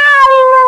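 A single loud, drawn-out meow from a cat, clear and close, with no other sounds around it.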